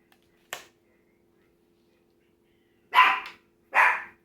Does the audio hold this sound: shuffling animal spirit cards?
no